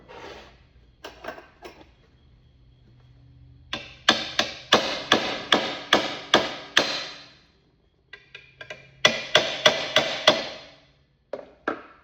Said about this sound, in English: Sometimes where these edges are rolled, I overbend them a little bit with the hammer.